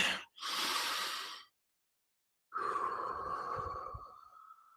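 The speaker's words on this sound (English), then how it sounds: "Let's take a couple deep breaths in." Deep breaths in and out, close and clear: a long airy inhale, a short pause, another long breath, a silence, then a slow exhale with a faint hum to it.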